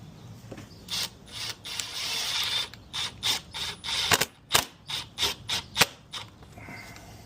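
Screws being driven into a Ram truck door arm rest, a series of short clicking and ratcheting bursts close by, coming faster and more evenly spaced toward the end, with no talk.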